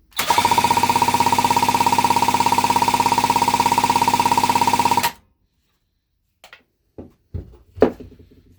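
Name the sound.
1977 Yamaha GT80 motorcycle engine cranked over for compression test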